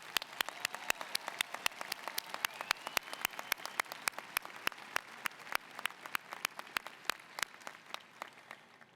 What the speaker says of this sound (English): Let's have another round of applause for all our new doctors.